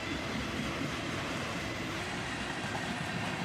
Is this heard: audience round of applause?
no